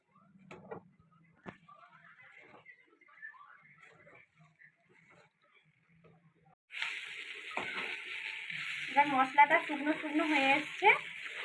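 A potato filling for chops is stirred in a pan, starting with sparse scraping taps, then a loud, continuous frying sizzle kicks in, with a spatula scraping rhythmically through the sizzle.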